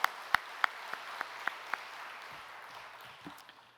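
A church congregation at a midweek service claps in a quick, evenly spaced rhythm, about seven sharp claps that then trail off into a faint, quiet room.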